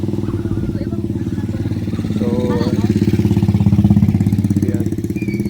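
A motorcycle engine runs close by on muddy, flooded roads after a typhoon, with a steady throbbing idle that swells slightly louder toward the middle, while someone talks over it.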